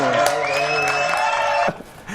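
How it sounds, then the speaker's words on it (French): Studio audience on a French TV comedy show cheering and applauding a guest, a loud dense crowd roar with whoops and a sustained high whistle, cutting off abruptly partway through. "Re-applaudissements pour Mathieu Alterman"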